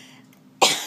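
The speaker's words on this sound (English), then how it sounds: "I don't want to keep coughing in your ear" A single sharp, loud cough breaks in suddenly after a stretch of quiet room tone and rings out briefly, close to the listener.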